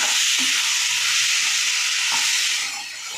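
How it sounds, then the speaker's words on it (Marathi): Onion and tomato sauté in hot oil with turmeric and homemade black chili powder for a chutney, a steady close sizzle with occasional soft stirring scrapes, the frying easing slightly near the end. "आता परतवून घेते छान असे"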